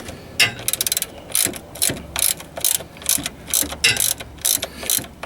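Ratchet wrench loosening an engine oil drain bolt, a close, loud run of rapid clicking bursts in quick repeated strokes, with no talking.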